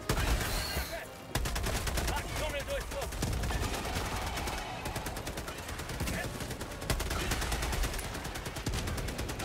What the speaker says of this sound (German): Beide machen gleichzeitig Magazin leer.